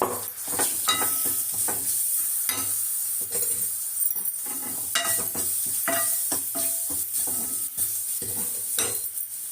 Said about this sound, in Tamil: கொஞ்சம் மிளகும் சீரகமும் பொடி பண்ணிருந்தேன் பார்த்தீங்களா, அதை இந்த எண்ணெயில் போட்டுடுவோம்.